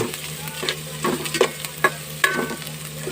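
Ingredients for sinampalukan, a head-and-feet dish, sautéing in a pan, a steady sizzle and frying hiss broken by several sharp scraping stirs.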